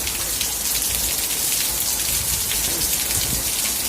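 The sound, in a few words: rain in a storm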